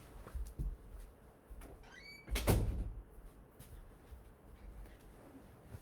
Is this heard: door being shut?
yes